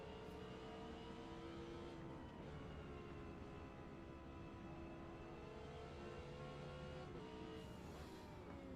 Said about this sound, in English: This Audi sounds pretty okay, actually.